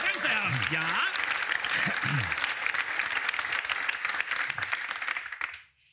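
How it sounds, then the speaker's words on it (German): Big audience applause on a German comedy show, sustained and fairly loud, with some indistinct voices beneath the clapping and a quick fade to silence at the very end. "Sehr großer Applaus."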